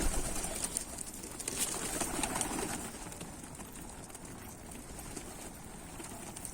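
Soft pigeon cooing near a coop mixed into a steady outdoor hiss, with faint scattered clicks and rustles; no one speaks.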